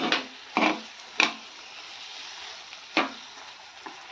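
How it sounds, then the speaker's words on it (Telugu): Tomato and cashew paste gravy with onions frying in a pan for a mushroom curry, a soft steady sizzle broken by a few sharp stirring scrapes, close and fairly quiet. "ఇది బాగా వేగాలి గ్రేవీ"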